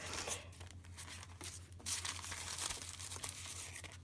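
Paper torn by hand into strips to form faux glassine bags, a series of close, dry ripping and crinkling sounds in short bursts over a steady low hum.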